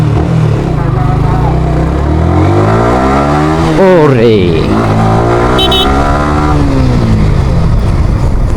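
A Yamaha R15M motorcycle engine revs hard while being ridden, its pitch climbing steeply in one loud surge before settling back to a steady drone; a voice exclaims briefly over it.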